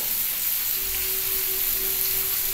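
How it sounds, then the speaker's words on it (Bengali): Sesame seeds fry in hot oil in a pan, a steady close sizzle that runs without a break, with a faint stirring scrape and a thin, even hiss over the whole stretch. "তিলটা একটু তেলের মধ্যে ভালো করে ভেজে নিচ্ছি"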